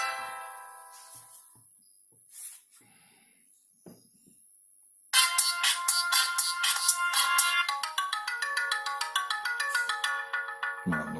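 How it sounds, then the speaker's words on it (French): A VOYO Q101 phablet phone plays ringtones. First come a few soft chimes separated by pauses, then a loud, bright, repeating electronic melody rings close by for several seconds before it stops abruptly. "au niveau de la sonnerie, qui est plutôt pas mal, on l'entend"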